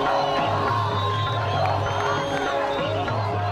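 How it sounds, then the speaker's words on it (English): A large crowd in Cairo, Egypt, shouting and screaming, a dense continuous roar of many voices with scattered cheers and whoops, loud and steady throughout. "the crowds are shouting and screaming"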